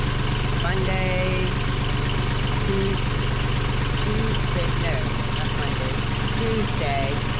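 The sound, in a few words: boat engine running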